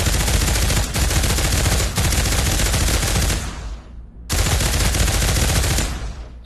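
LMG machine gun in the Pavlov virtual-reality shooter firing long, loud sustained bursts, a short gap and then another burst, with the rapid rounds blending into a dense roar that tails off between volleys.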